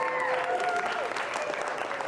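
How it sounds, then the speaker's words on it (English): Brief round of audience applause at a keynote event, a steady patter of clapping with a crowd murmur behind it. "Give them a round of applause,"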